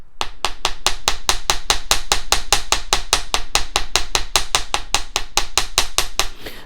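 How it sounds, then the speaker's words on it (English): A hammer's flat face strikes a solid copper jump ring, flattening it for handmade earrings: a fast, steady run of about thirty sharp metallic taps, close and loud, evenly spaced with no talking. "I'm going to use the flat side of my hammer to flatten it out first."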